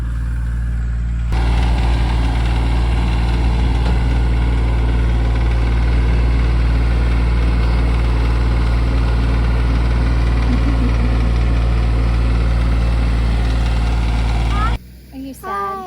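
A tractor engine idles and rumbles steadily nearby on a homestead in the evening, a continuous low drone that runs almost the whole time before cutting off near the end.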